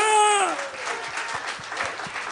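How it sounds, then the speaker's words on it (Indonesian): A church congregation claps during a worship service, a dense burst of applause rising under a voice that opens the moment before fading into steady clapping. "Tepuk tangannya saudaraku kurang meriah buat Tuhan."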